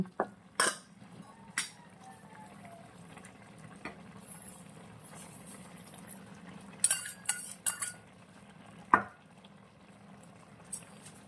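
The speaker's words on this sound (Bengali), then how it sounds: "এবার ঢাকাটা খুলে নিয়ে নুন আর চিনি দিয়ে দেব।" A pot lid lifts off a pot of pulao, followed by clinks of a spoon and metal as salt and sugar are added, with scattered sharp knocks over a low simmering hum.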